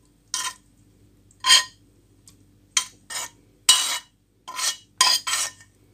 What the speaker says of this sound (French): là je suis en train de mettre tout dans le mixeur